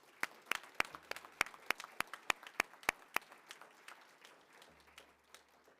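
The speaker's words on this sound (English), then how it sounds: "If we could please give them all a round of applause." Applause at a journalism and strategic communication writing awards ceremony: a modest round of individual claps with a steady rhythm at first, thinning out and fading as the clapping trails off.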